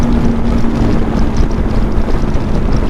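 A Lifan KPT 400 motorcycle cruises at 80 mph in fourth gear, fitted with a 43-tooth rear sprocket, its engine drone buried under loud, constant wind rush over the microphone.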